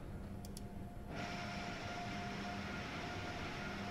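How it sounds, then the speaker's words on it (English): Cabin blowers on an Amtrak Acela Express train in the game Train Sim World 3 switch on abruptly into a loud steady broadband whoosh with a faint tonal hum, continuing evenly after a couple of brief clicks. "The blowers on this train are extremely loud."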